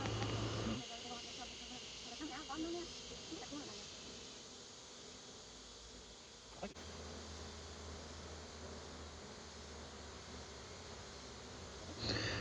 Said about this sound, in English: I love watching the bees transition into their new hive and jumping out of the swarm box and transitioning into the new hive